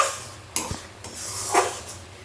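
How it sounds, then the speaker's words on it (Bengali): A metal spatula scrapes and knocks against a pan while stirring thick chhena with jaggery for sandesh, giving a few sharp clinks and dull scrapes at close range. "নিচে যাতে না লেগে যায় সেজন্য এইভাবে কিন্তু খুন্তিটা দিয়ে আমাকে নেড়ে যেতে হবে"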